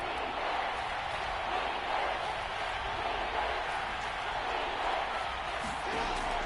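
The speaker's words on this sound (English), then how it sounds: "the crowd getting into it as we come up on a big 3rd down" A video game football stadium crowd cheers ahead of a big third down, a continuous broadband roar of fans with slight swells, steady and moderately loud.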